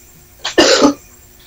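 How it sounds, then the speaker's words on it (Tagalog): A person coughs loudly and close by, with a short first burst and then a longer, harsher cough that fades quickly, and no talk over it. "May umubo."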